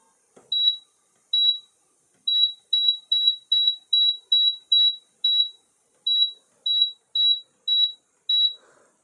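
An air fryer timer sounds a long run of sharp, high electronic beeps in uneven groups, loud and close in an otherwise quiet kitchen.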